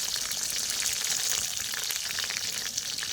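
Green chillies, coriander seeds and cumin frying in hot oil in a pot, a dense, continuous bright sizzle heard up close with no talking.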